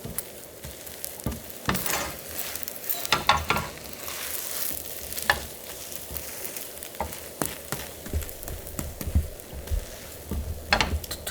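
A rolled egg omelette with seaweed cooks slowly over very low heat in a pan, giving a soft, steady sizzle with scattered crackles and pops throughout, close and alone with no talking.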